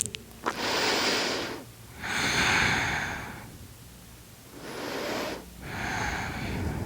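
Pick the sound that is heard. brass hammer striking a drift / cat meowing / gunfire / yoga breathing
yoga breathing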